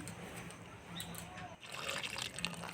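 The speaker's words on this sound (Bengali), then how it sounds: "এতে বেশি করে জল দিয়ে দিচ্ছি একদম মাটিটা ভিজিয়ে দিচ্ছি" Water poured generously onto the soil of potted bougainvillea cuttings, a steady soft trickle and splash close by and fairly quiet.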